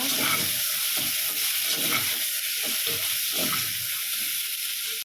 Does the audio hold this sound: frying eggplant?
yes